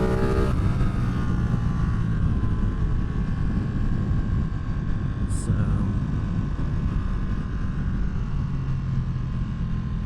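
A stock motorcycle engine drones steadily while the bike is ridden, with constant loud road and wind rumble throughout and no clear breaks.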